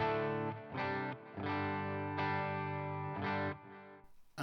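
Electric guitar played through a Boss IR2 pedal on its X Crunch channel, set fairly clean; sustained chords ring out in several strummed bursts with smooth decays, loud and alone.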